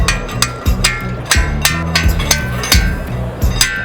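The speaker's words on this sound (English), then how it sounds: "Big ass slide hammer." Repeated heavy metallic knocks of a big slide hammer during a HEMI engine build, close by, coming in an irregular rhythm of sharp impacts with short ringing tails.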